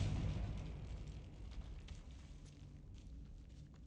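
A Confringo explosive spell is cast in the Hogwarts Legacy video game, giving a loud burst and rumble at the start that fades into a softer lingering roar, with no talking.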